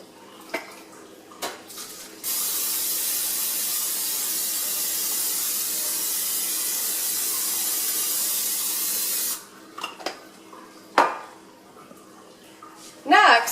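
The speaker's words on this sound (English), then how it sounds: "spray your casserole dish that will be able to accommodate at least 8 large flour tortillas" Cooking spray hissing into a casserole dish for chicken enchiladas, one long steady close spray lasting several seconds, framed by light clinks and handling sounds before and after.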